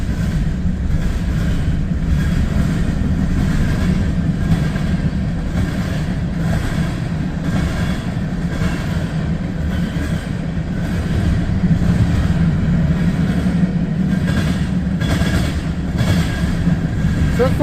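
A CSX freight train with box cars rolls past at night in high wind and rain, a steady heavy low rumble with rattling car noise that holds loud throughout, with no horn.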